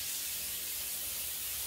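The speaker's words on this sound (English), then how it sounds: "I'm going to spray it with some nonstick cooking spray." Short hiss of nonstick cooking spray released from a can onto a parchment-lined baking sheet, a single continuous spray heard up close.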